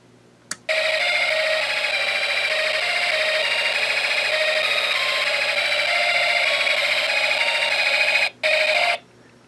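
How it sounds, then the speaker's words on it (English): A Snap Circuits electronic kit plays a tone that mixes its music IC and alarm IC, giving one steady electronic tone. It holds for about eight seconds, briefly cuts out near the end, then sounds again, clear with no talking. "it's mixing the music IC and alarm IC together"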